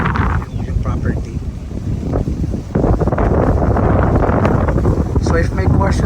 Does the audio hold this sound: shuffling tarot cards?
no